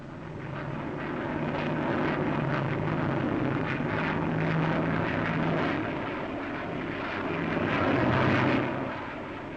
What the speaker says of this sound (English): Another research aircraft, the Boulton-Paul 111A, a very fast little delta wing type.